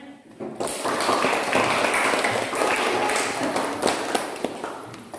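Classroom applause after students finish a group presentation, a burst of scattered clapping rising quickly and continuing unevenly with some taps and room noise, close and moderately loud.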